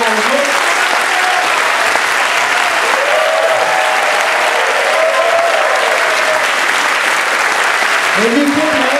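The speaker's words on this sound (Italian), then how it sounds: "lo ringraziamo con un super mega applauso" An audience gives steady, dense applause for a town band at the 2019 San Bartolomeo concert in Portacomaro, sustained loudly throughout, with a few voices calling out above the clapping.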